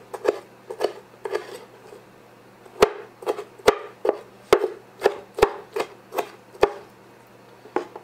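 A knife chops food into little pieces while preparing a Tex-Mex meal. Sharp, close chops land in an uneven series of about fifteen strokes over several seconds, some louder and crisper than others, with no talking.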